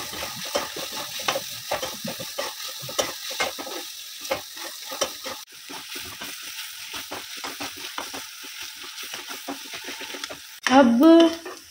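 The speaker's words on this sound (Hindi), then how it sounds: "मिर्ची और लहसुन थोड़ा सा ब्राउन हो जाए, हम उसमें डाल देंगे बारीक कटी हुई प्याज।" Finely chopped onions fry with green chilli and garlic in a pan, crackling and sizzling while being stirred in frequent scraping strokes, ending with a louder burst of sizzle; no talk.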